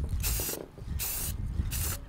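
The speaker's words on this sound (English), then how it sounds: "This is just like regular spray paint." Three bursts of spray paint hiss from an aerosol can onto a Traxxas RC truck body, each lasting about a third of a second and separated by short pauses, close and loud.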